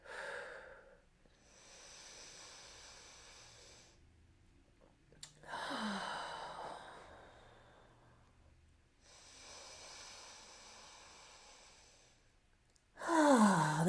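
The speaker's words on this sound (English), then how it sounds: "A few long breaths here." Slow, deep yoga breaths, several long airy inhales and exhales in a calm rhythm with quiet gaps between them, close and soft, ending in a louder rushing breath.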